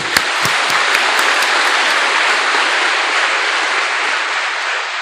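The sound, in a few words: audience applause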